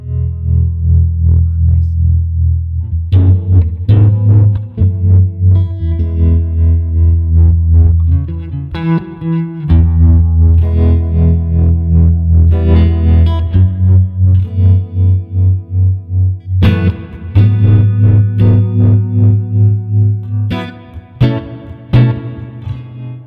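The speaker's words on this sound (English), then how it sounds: "we're just going to use the bias tremolo because that suits this amp a little bit better" Electric guitar run through a Line 6 HX Stomp XL bias tremolo, chords and single notes pulsing in a steady throbbing volume wobble, with a warm slightly driven tone, loud and close with no talking.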